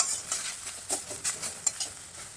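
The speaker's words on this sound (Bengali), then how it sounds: "দিয়ে পুরো নাড়াচাড়া করতে হবে, একদম ভাজা ভাজা করতে হবে" Mustard greens with turmeric being stirred and fried in a pan: a soft sizzle under a series of irregular scraping and tapping strokes of the spoon, fairly close with no talk.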